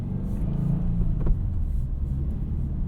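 A 2025 Subaru WRX TS driving on local roads near Road America, a steady low engine and road rumble heard from inside the car, with no talk.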